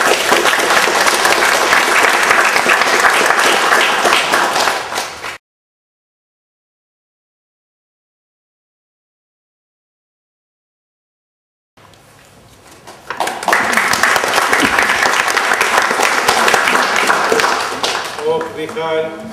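Audience applause at an art exhibition opening, broad and loud for about five seconds, then a long silent gap before a second burst of dense clapping that rises again and carries on to the end.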